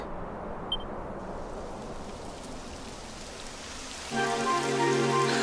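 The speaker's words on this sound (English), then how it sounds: "It would have to go and start raining, wouldn't it?" Steady rain in the video game Dragon Quest XI patters continuously in a broad hiss, then a louder layer with a faint tonal hum joins near the end.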